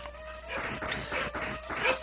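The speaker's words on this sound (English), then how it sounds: "if you hear the dogs barking in the background" Dogs bark and yip in a house where trick-or-treaters are arriving, sounding in short bursts through the middle and end of the moment, fairly near but mixed with other household noise.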